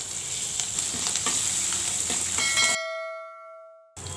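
Curry leaves, green chilies and ginger hit hot oil in a pan for aval upma, giving a loud steady sizzle with stirring clatter that cuts off abruptly near the end, leaving a faint ringing tone before the sizzle briefly returns.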